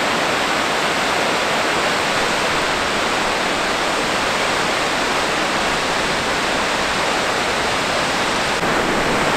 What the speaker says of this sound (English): Behind me is Skogar Falls.